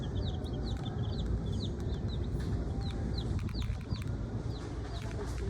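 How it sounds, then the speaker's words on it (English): Chickens in a Tractor Supply farm store, a steady stream of soft chirps and clucks from many birds at once, continuous and fairly close against the store's background hum. "Ah, yes, the chickens."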